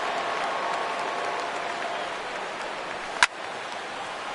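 Stadium crowd of around 35,000 at a baseball game in a video game, a steady roar of cheering that holds evenly throughout, with one brief sharp transient near the end.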